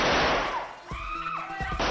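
Firecrackers go off behind a house guest indoors in a TV drama scene: a loud, dense burst of crackling bangs and pops that eases off briefly, then surges again, with no speech.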